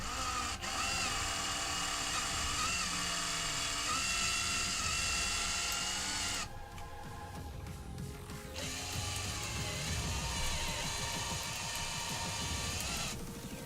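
A power tool drills out and enlarges two existing holes in a pillar while moving the power supply of a Riden RD6012; a steady high whirring grind runs for several seconds, pauses briefly, then resumes.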